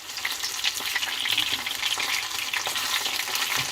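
King George whiting fillets fry in a pan with a steady, close crackling sizzle full of bright spitting pops, continuous and without any talking.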